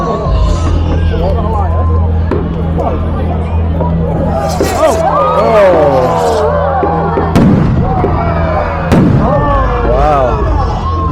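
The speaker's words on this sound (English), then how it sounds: "There you go, the fireworks now." Fireworks bursting at a bonfire night display at a Blackpool cricket club, several sharp booms spaced a few seconds apart over loud crowd chatter and a constant low hum.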